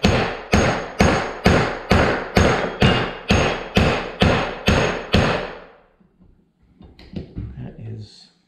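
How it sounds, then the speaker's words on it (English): Eleven sharp, evenly spaced blows of a 16-ounce claw hammer on a wheel bearing punch tool ring out in quick succession, then stop, followed by a short quiet stretch and faint shuffling. "The 16-ounce claw hammer."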